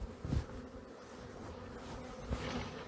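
Honeybees buzz around hive frames during a springtime inspection, a steady close swarm drone with a couple of brief louder surges as bees fly near.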